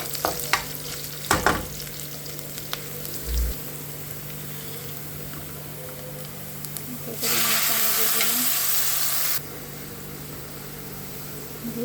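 Onions frying in oil on a stove, a quiet ongoing sizzle with a few scattered knocks and clicks and a louder burst of hissing in the middle, with no one talking.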